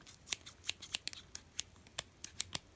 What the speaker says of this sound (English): Okay, so it comes with scissors.